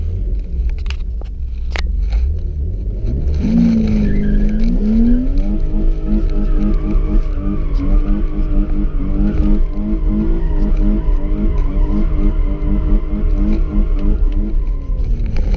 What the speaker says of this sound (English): Okay, let's drive this car right now.